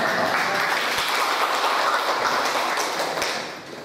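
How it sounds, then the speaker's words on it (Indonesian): An audience at a Hindu community gathering in Batam breaks into loud, dense applause, many hands clapping together close by and fading slightly toward the end. "Kenapa tepuk tangan?"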